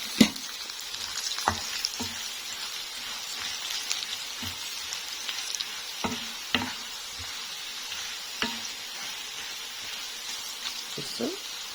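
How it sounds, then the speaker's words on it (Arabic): Onions frying in oil for Egyptian koshari, a continuous bright sizzle with occasional stirring clinks and scrapes in the pan, close and steady throughout. "ادي البصل بدأ يتقلى عندنا اهو"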